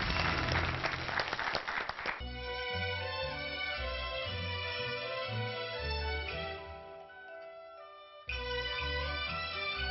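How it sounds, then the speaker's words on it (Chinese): An audience applauds a pair of opera performers, a dense wash of clapping that fades quickly as instrumental music with percussion takes over and continues underneath. "来，咱们掌声欢迎他们2位吧。"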